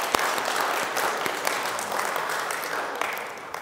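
Church congregation applauding during a Vigil Mass, a steady wash of many hands clapping in a reverberant space, moderately loud and continuous throughout.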